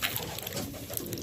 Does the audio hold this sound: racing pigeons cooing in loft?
yes